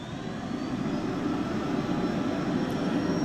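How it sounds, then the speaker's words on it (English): A steady jet engine roar in the X-Plane 12 flight simulator, low and dense, slowly building in intensity with a faint high whine on top, continuous and unbroken throughout. "And we can let the engine spool up."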